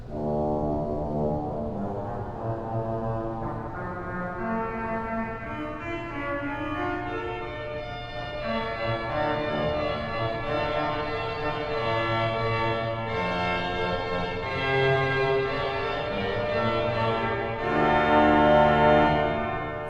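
A pipe organ of an 1891 Schuelke instrument in St. Boniface Catholic Church, New Vienna, Iowa, plays sustained, bright, brassy chords on a trumpet reed stop, the notes shifting slowly and swelling louder toward the end.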